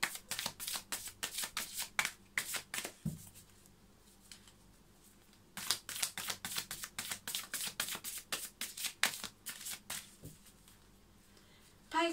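A deck of tarot cards is shuffled close up, crisp riffling bursts in two long runs separated by a quiet pause, faint talk in the background.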